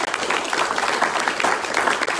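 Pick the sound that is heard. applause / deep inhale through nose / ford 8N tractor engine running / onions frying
applause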